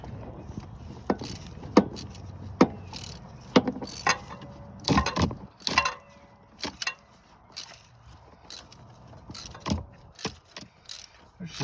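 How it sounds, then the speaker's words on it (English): A wrench ratchets while a spark plug goes into a 1995 Ford F-150 engine, giving sharp metallic clicks and short spinning bursts at close range, with sparse irregular rhythm and no talking. "you put the wrench on it and you just keep spinning and spinning and spinning"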